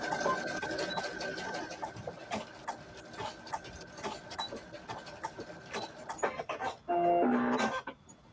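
Sewing machine stitching down a coiled rope bowl, a steady run of rapid mechanical needle clatter that pauses and restarts, ending in a louder burst of whirring near the close.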